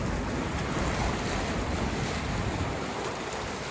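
Water rushes loudly and steadily through a sluice gate in the moat around a French château, a continuous broadband roar with no break and no talk.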